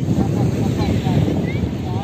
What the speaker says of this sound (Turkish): acayip rüzgar ya